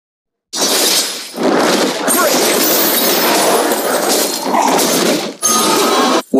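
A turret being destroyed in Mobile Legends: Bang Bang, with loud crashing and shattering bursts in quick succession, interrupted by short gaps, alongside a game announcer's voice.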